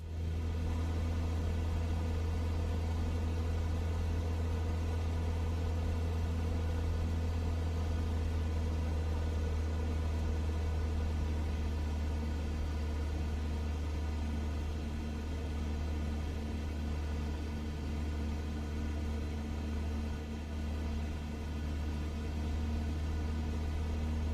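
A Cessna 172 engine at 2,300 RPM in Microsoft Flight Simulator 2024 gives a steady, even drone with a low rumble that holds unchanged throughout, with no talking.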